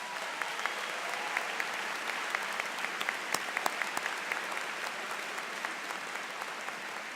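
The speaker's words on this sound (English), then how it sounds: "Let's give all the faculty a round of applause." A commencement audience applauds the faculty, steady dense clapping from a large crowd filling the hall at an even level throughout, with no speech over it.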